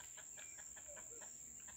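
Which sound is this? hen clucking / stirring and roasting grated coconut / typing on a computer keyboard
hen clucking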